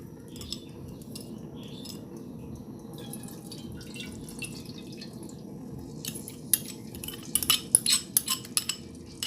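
Sauce is poured into a frying pan holding vegan honey-glazed ribs, giving a steady, close liquid sizzle and drip with light utensil clinks that sharpen near the end.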